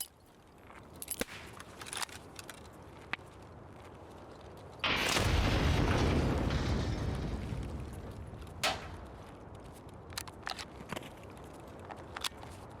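A grenade going off in a video game: a sudden heavy blast with a rumbling tail that fades over a few seconds, set among scattered sharp gunshots and clicks before and after.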